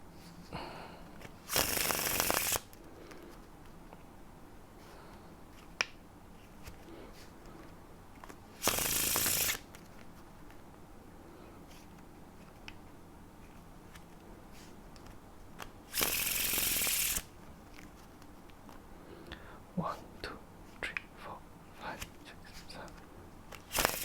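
A deck of playing cards being faro shuffled: three loud, brief riffling bursts come well apart, each about a second long, with soft handling taps and quiet murmured counting between them.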